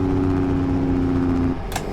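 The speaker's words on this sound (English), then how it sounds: "The engine brake on this thing sounds pretty good." A Peterbilt truck in American Truck Simulator runs with a deep, steady droning engine tone that cuts off abruptly near the end, followed by a short sharp burst.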